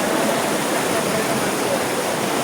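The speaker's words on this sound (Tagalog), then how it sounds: "Ayan ang Mother Falls" Mother Falls at Ditumabo, San Luis, Aurora, a steady roaring rush of falling water, dense and unbroken, heard close and loud with no other sounds.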